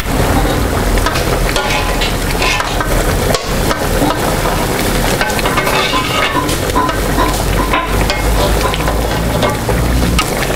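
Tomato and chili pepper dry-roast in a pan without water as they are stirred, giving a loud, continuous crackling sizzle with scraping and knocking.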